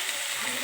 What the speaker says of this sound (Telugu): మెత్తగా అయిపోయేదాకా వేయించుకోవాలండి.